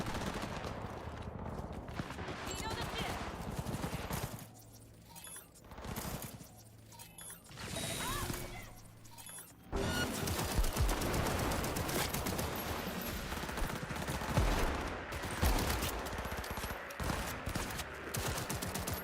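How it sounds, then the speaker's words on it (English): Rapid bursts of gunfire in Cyberpunk 2077 crackle throughout, dense and continuous in the second half, with mechanical clicks and clatter mixed in; fairly faint overall. "Why is there so much gunfire over there?"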